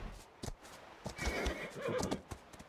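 A horse whinnies loudly for about a second amid hoof clops and sound effects in the video game Atlas, with no talking.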